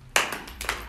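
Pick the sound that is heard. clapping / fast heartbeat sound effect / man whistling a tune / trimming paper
clapping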